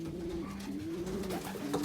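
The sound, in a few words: racing pigeon cooing in breeding loft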